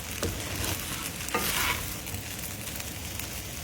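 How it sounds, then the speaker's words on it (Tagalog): Fried rice is tossed in a hot pan with sesame oil, giving a steady close sizzle with a couple of brief scraping swishes from the utensil. "Continue to toss the rice until evenly colored and lightly toasted"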